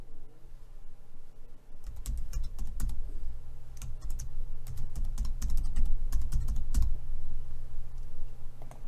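Someone types an email address on a computer keyboard while setting up a Stripe account, a steady run of close, crisp key clicks with short pauses between bursts, no talking.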